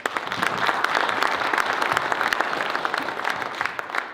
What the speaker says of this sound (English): Let's clap it up, guys.